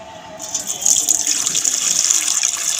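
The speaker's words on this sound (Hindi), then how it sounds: "चावल का पानी कढ़ दी है मैं।" Water drained from cooked rice pours and splashes steadily, a close running gush like liquid draining into a sink, continuous for a few seconds with no talking.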